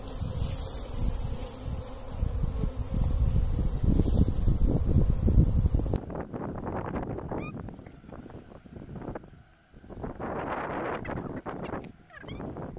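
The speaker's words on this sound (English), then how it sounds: "I'm going to take these bees, pour them back into the colony" Honey bees buzz around an open hive during varroa mite monitoring, a dense, steady droning hum that fills the whole stretch, with a sudden shift in tone about halfway through.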